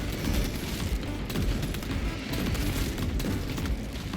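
Dense, continuous bolter gunfire and booming impacts in Space Marine 2 fill the clip with loud, overlapping shots, unbroken by any speech.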